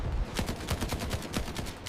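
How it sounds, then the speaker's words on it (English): Rapid bursts of distant gunfire crackle in a steady rhythm as a WWII Corsair fighter fires on a bomber, fairly quiet and unbroken by voices. "just as a hail of gunfire blasts through the structure"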